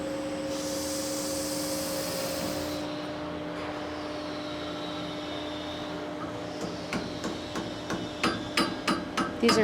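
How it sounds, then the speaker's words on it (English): Light hammer taps on the end of a lathe-turned shaft being fitted in a machine shop, starting as a few soft strikes and growing into a quicker series of sharper metallic knocks over a steady machinery hum. "I'm not tapping that very hard, just a little bit."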